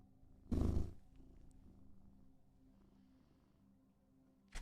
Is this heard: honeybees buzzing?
no